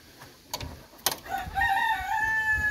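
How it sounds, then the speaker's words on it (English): Several white crested black Polish chickens give one drawn-out rooster crow, close by, after a couple of sharp clucks and soft shuffling noises in a crowded coop. "here's our white crested black Polish chickens"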